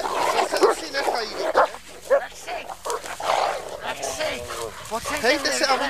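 A dog, apparently a German Shepherd or Rottweiler, gives short barks and whimpering yips mixed in with fairly constant nearby talking, and the dog sounds come in irregular bursts through the few seconds.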